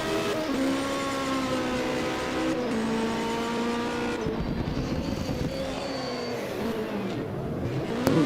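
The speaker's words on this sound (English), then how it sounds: "there's a handbrake turn as well" An Opel Ascona hill climb race car makes a handbrake turn, its loud engine note rising and falling steadily through the turn, with tire scrubbing and engine revving throughout.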